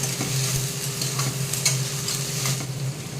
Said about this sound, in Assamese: আৰু এইখিনি ধুনীয়াকৈ কোমলি যোৱালৈকে মই ভাজি থাকিম।